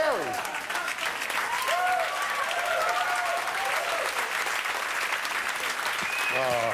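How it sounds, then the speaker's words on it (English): A crowd applauds continuously, dense clapping with some cheers and whistles rising above it near the end. "Thank you for that Star Search applause."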